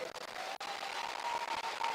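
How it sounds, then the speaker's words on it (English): Audience applause at a graduation ceremony for returning grand prize dance winners: a steady, dense wash of clapping filling the hall throughout, with a brief dip near the middle. "Proudly, yes, please clap for them"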